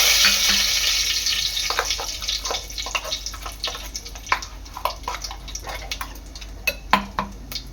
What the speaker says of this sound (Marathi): तेल चांगलं गरम झालेलं आहे यामध्ये कढीपत्ता आणि जिरं टाकते